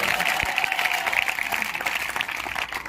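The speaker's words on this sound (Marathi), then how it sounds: "एकदा जोरदार टाळ्या होत्या" An audience of students gives loud, steady applause at a lively guidance talk, with dense clapping that keeps going and crowd noise underneath.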